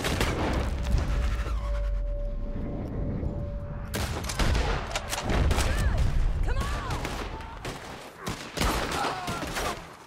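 Video-game gunfire in Red Dead Redemption 2, a loud fusillade of overlapping shots and booms that drops out briefly, then resumes with sharp repeated cracks, with a voice shouting over parts of it.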